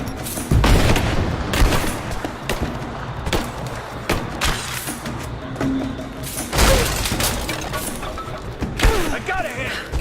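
Repeated gunshots and booming grenade blasts crack out in the Baba Yaga: The Temple of the Witch expansion of Rise of the Tomb Raider, loud and irregular, with soldiers' voices shouting among the explosions.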